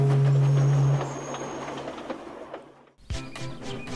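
A special train hauled by the Flying Scotsman hurries along the main line, a loud steady rumble with a sustained low hum that fades, briefly drops out, then returns with rattling wagon noise.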